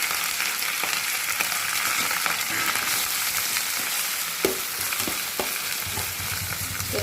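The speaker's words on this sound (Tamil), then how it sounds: "கருவேப்பிலை, வெங்காயம் எல்லாத்தையும் போட்டு வதக்கணும்." Curry leaves and onion sautéing in a pan, a steady close sizzle with occasional stirring scrapes and clicks throughout, no talking.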